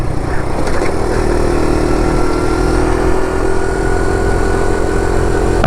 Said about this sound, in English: it'll cruise all day at 50, 55 miles an hour for a little single air-cooled engine